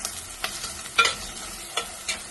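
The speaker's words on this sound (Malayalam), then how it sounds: "തക്കാളി 2 പച്ചമുളകും കയറിയിട്ടിട്ടുണ്ട്." Tomatoes and green chillies frying in hot oil for a shrimp and drumstick curry, with a steady low sizzle broken by several sharp stirring scrapes and bursts, close by and without talk.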